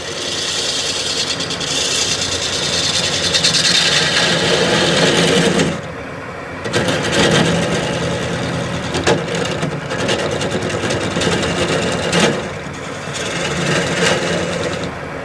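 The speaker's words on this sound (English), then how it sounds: "I try going at the end with a skew, the high point up." Skew chisel cutting the end of a flat-sided wooden vase on a lathe, giving a steady, loud scraping hiss with a brief drop near six seconds, then continuous cutting to the end.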